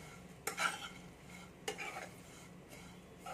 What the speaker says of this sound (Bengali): এটা কম গ্যাসেতে কিন্তু আস্তে আস্তে নাড়তে থাকতে হবে